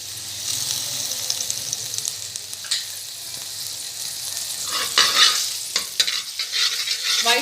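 Butter melts and sizzles in a kadhai for white sauce, a steady close frying hiss with occasional scraping stirs that get busier toward the end.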